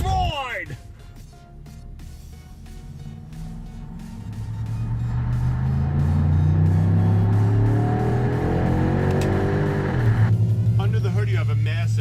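A Pontiac Grand Prix GXP with a 5.3-liter V8 accelerates from inside the cabin, its engine note climbing steadily in pitch and loudness before easing back, a low continuous rumble under the drive.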